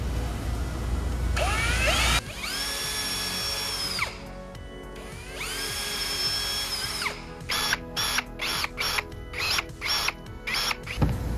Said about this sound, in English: Super awesome for drilling into EVA.